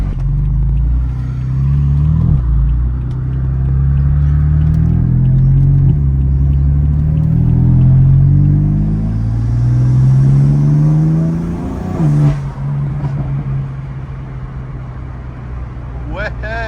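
A BMW M4 cruises along a road, its engine rumbling steadily with smooth throttle swells and a gear change midway, heard from inside the car with people talking over the drone.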